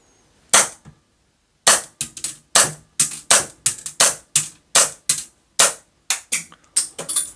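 A Full Metal 2011 IPSC race gun airsoft gas pistol with dual magazine and shell ejection fires a single sharp crack, pauses, then releases about fourteen more loud, close shots in a quick, slightly uneven string.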